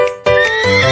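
A horse neighs loudly and close by: a single bright, quavering whinny that rises and then drops into a lower, rougher tail.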